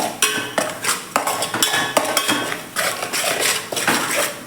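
A spoon stirs a spice paste in a pan with rhythmic metallic scrapes and clinks, about ten sharp strokes in quick succession, close and loud, with no talking.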